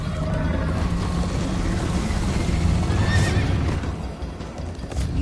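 A horse in the video game Minecraft Story Mode whinnies loudly over rapid galloping hooves and a steady rushing rumble, with no voices.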